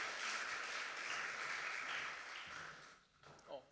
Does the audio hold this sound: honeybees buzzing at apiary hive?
no